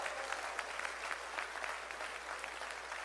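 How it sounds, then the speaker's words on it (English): A round of applause from the audience at a temple's 25th anniversary celebration, a continuous wash of many hands clapping at a moderate, even level, heard from within the hall without speech. "Give them another big round of applause."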